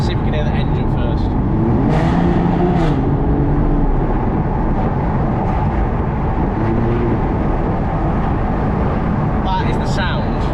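A 4.9-litre V12 in an Aston Martin DB9 Volante convertible drones steadily from inside the moving car, its engine note blended with heavy road and wind noise, with a voice speaking over it at moments.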